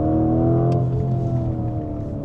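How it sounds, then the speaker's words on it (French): A 4x4 drives behind a Lamborghini Temerario on small country roads, its engine holding a loud, steady hum with a slightly falling pitch throughout, close and continuous, no voices. "on est dans un 4x4 en train de rouler derrière la Temerario"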